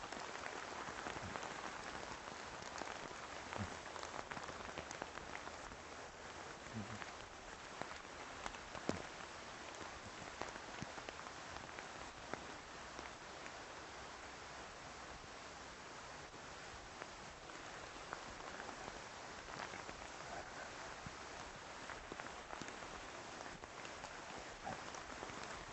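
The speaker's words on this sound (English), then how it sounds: "it's raining buckets here" Heavy rain pours outdoors overlooking water toward Whidbey Island, a dense, even hiss of drops on surfaces lasting the whole stretch, with occasional louder patters and no talking.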